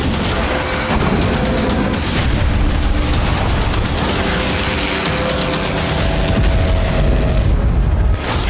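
Explosions from missile and drone attacks on airfields boom and crackle in dense, continuous loud bursts, with rapid repeated blasts layered over a harsh roar throughout.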